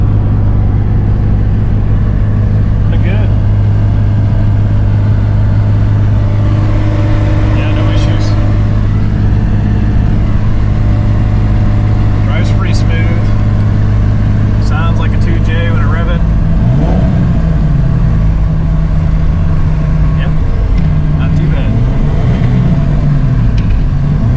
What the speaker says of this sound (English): So yeah, just wrapping things up here. Still driving.